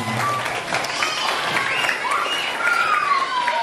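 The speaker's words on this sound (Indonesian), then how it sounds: "tepuk tangan buat kita semua" A schoolchildren audience at a Jakarta Islamic School primary Occupation Day event claps in a steady, moderately loud burst of applause, with voices mixed in among the clapping.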